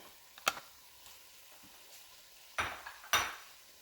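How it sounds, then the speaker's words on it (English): Garlic and ginger being stirred in a pot for Ethiopian doro wat, a few sharp metallic scrapes and clinks of a utensil against the pot over a faint sizzle, close and sparse. "you're going to go ahead and give that a nice little stir"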